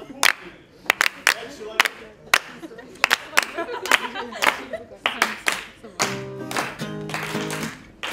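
A handful of people clap in sparse, uneven bursts, a few sharp separate claps at a time in a small room, with a voice briefly heard near the end.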